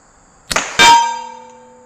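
Two quick impacts, a PCP air pistol shot and a pellet striking a steel gong target, followed by a clear ringing metallic clang that decays smoothly over about a second, no voices present.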